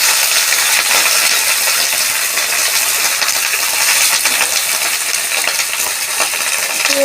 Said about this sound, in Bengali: বেগুনটা একটু ভাজা ভাজা হোক।